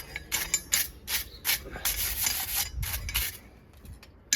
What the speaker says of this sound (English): So I'll just give this a rub over and then wire brush the bits of fibres off it.